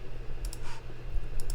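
A computer mouse clicks a few times in quick light pairs, close and fairly clear over a quiet room hum with no talking.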